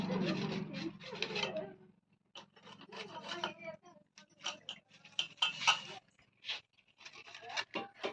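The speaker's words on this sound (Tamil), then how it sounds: "சும்மா இப்ப காய்கறி கட் பண்றதுக்காக உட்காந்துட்டேன்" Vegetables are cut by hand at home, with irregular soft knife taps and scraping strokes on a board that come close and fairly quiet in uneven bursts, with brief pauses between them.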